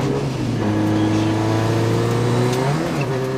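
Rally car engine at full speed on the Tall Pines Rally 2022 stage, a loud, steady, close engine roar with rising revs, no talk over it.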